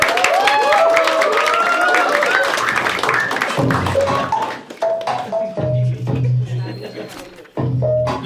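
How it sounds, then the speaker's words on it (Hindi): A studio crowd claps and cheers as a guest is welcomed onto the stage of a comedy talk show, dense applause under a host's voice that thins into scattered claps and then talk. "please start clapping and welcome on stage"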